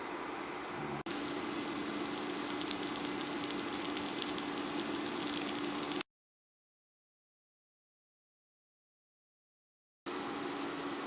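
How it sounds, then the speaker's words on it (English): Steady, dense sizzling of cauliflower double-frying in hot oil in a pan, continuous and close, cutting out abruptly for a few seconds before resuming. "I'm double frying the last batch of the cauliflowers."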